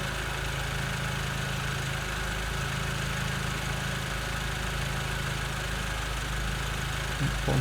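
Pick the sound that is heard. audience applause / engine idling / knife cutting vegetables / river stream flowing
engine idling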